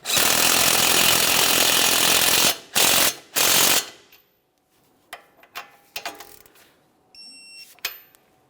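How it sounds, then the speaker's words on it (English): Power tool tightening a tie rod mounting nut on a 2014-2018 Mazda 3, a loud continuous burst of impact rattling followed by two short bursts, then quieter ratchet clicks and metallic taps. "Now we'll tighten that mounting nut and torque it to 43 foot-pounds."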